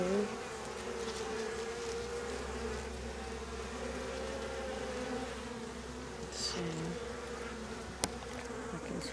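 Honey bees buzz steadily around an open hive during a summer honey harvest, a close, continuous droning hum with occasional louder passes of individual bees.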